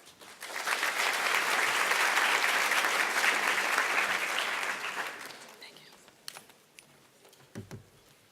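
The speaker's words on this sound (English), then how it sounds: "Kindly help me give a very warm round of applause for Dr." A conference audience at the CSIR 2017 opening plenary gives Dr. Philip Goyns a dense round of applause that swells, holds for several seconds, then fades out, leaving a few scattered claps and small noises.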